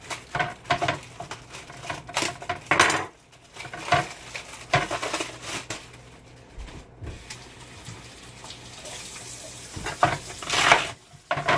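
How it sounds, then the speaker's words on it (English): Chicken pieces and bone broth ingredients are loaded into a pressure cooker pot, giving intermittent clunks, splashes and knocks against the pot at close range, with quieter handling noise between the louder bursts. "what I'm going to do is put it in this pressure cooker"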